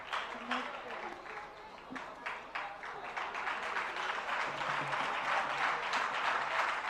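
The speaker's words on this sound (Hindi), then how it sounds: "जोरदार तालियां सभी के लिए।" A hall audience at a Hindi spiritual question-and-answer gathering claps in sustained applause that starts moderate and swells louder toward the end, many hands blending into a steady roar.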